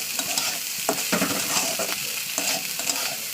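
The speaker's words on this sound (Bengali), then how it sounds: "চলুন ভাত ভাজা হয়ে গেছে" Rice stir-fried in a hot pan, a steady sizzle with repeated scraping stirs of a utensil at close range, no talking.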